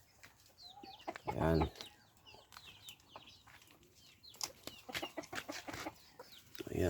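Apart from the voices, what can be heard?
chickens and roosters clucking, Shamo and Parawakan breeds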